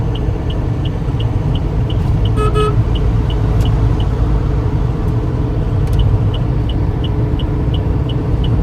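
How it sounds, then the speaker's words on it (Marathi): On the Samruddhi expressway, a vehicle horn gives a short blast over a loud, constant rumble of engine and road noise, while a steady electronic beep repeats in the background. "हॉर्न मारा."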